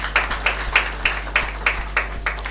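An audience at an awards ceremony claps in a steady rhythm of about nine beats, close and moderately loud, with a low hum behind it.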